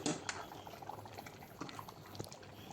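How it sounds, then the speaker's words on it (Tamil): Jeera samba rice boils hard in a pot of water, giving a faint, bubbling, popping sound with small clinks now and then. "அந்த ஜீரக சம்பா ரைஸை போட்டு நல்லா தலக் பிளக்னு கொதிக்குது பாருங்க"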